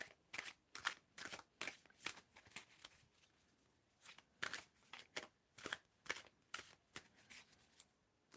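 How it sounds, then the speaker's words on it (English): Tarot cards are shuffled in quick, crisp riffling bursts, repeated in a steady rhythm, close and quiet with no voices. "So RMVCLE, please tell me when to stop shuffling."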